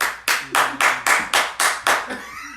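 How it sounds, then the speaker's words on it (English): Seven sharp, evenly spaced hand claps ring out close and loud, each with a brief decay, followed by a fainter trailing sound at the end. "I had to clap a lot"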